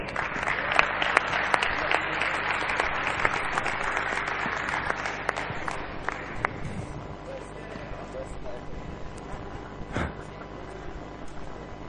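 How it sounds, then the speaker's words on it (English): At a DreamHack Winter 2009 Quake Live grand final, the crowd gives a round of applause for the third-place player, clapping strongly at first and then thinning and fading, with a voice speaking over it. "Please, ladies, a round of applause."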